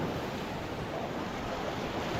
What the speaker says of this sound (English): Nice crashing waves on the golden sands of beautiful California.